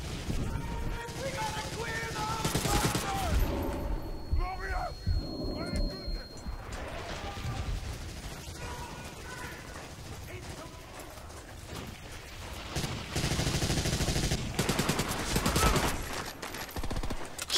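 Bursts of rapid gunfire and explosive crashes in the Medal of Honor: European Assault video game rattle on and off among game sounds, with voices talking over the shooting throughout.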